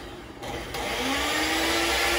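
An electric mixer switches on and settles into a loud, steady whir while whipping egg whites into meringue for a chocolate chiffon cake, heard close up with no talking.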